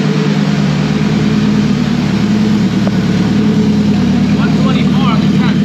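A drag-racing car with a lean fuel condition idles after being fired up, giving a loud, steady low engine drone close by with faint background sounds.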